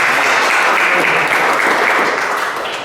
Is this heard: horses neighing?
no